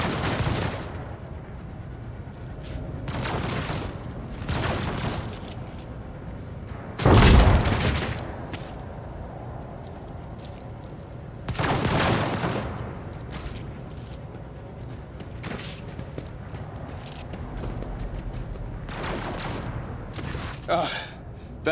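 Gunfire in the Warhammer 40,000 Rogue Trader video game: a handful of separate loud bursts and booms spaced several seconds apart, the heaviest around the middle, over a low game background with no talk.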